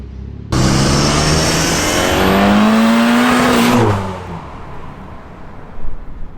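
A 325 bhp Renault Megane engine revs hard, its exhaust note climbing loudly for a few seconds before dropping off sharply, leaving a quieter idle and some outdoor background noise.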